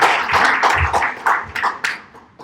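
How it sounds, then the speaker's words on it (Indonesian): An audience at an evening seminar gives a short round of clapping, close and fairly loud, in uneven bursts that fade and trail off toward the end. "Tepuk tangan dong Bapak Ibu sekali lagi."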